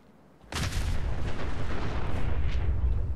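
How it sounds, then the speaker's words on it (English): Gunfire in the video game Fallout 4: a sudden heavy boom followed by a sustained rumbling roar of distant shooting, loud and continuous for several seconds. "Who's shooting over here?"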